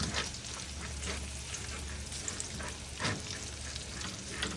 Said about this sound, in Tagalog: Ginigisa ko siya para masarap